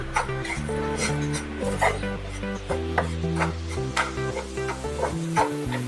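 A spoon scrapes and stirs sugar into a coconut laddu mixture in a pan, with soft repeated scraping and light sizzling under steady background music.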